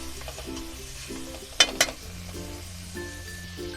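Ingredients for chicken chowmein fry in a pan with a constant close sizzle, broken partway by two sharp metallic clinks of a utensil against the pan.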